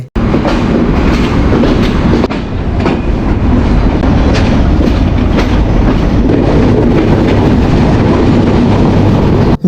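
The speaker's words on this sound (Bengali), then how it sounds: "আমাদের ট্রেনটি নির্দিষ্ট টাইম থেকে তিন মিনিট লেট করে ঢাকার উদ্দেশ্যে রওনা দিয়েছে" The Jahanabad Express intercity train runs from Khulna toward Dhaka, heard from inside as a loud, continuous rumble with steady rhythmic clickety-clack of wheels over rail joints.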